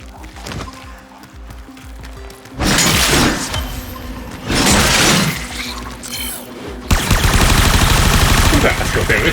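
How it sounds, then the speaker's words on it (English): Loud bursts of weapon fire against an alien hive in the sci-fi shooter Warframe, arriving in several heavy, crackling volleys with shattering impacts between quieter stretches, and a final sustained barrage at the end. "Destroy it with weapon fire."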